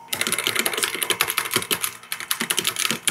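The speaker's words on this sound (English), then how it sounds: "I'll share a typing sound for this." Quick, crisp keystrokes rattle across a white minimalist computer keyboard in a steady, close-up typing run with irregular rhythm and no voices.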